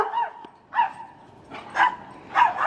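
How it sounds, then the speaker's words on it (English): A small dog of about five pounds barks in a backyard garden, giving four sharp, high-pitched yaps spaced out over a few seconds, close and clear. "The little dog is my daughter's little dog"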